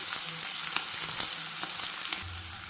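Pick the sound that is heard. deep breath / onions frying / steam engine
onions frying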